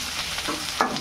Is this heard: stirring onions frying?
yes